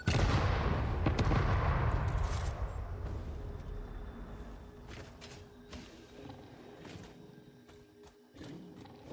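A bomb blast in the video game Satisfactory: a loud, deep boom opens, then rumbles and fades over several seconds, leaving scattered smaller thuds and clanks of game action.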